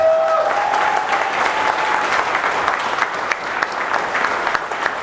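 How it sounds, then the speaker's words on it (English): An audience at a Chicago real estate wholesaling meetup bursts into sustained applause, a dense, loud patter of many hands clapping together for several seconds, with a brief voice fading out at the start. "give yourself a round of applause for being here"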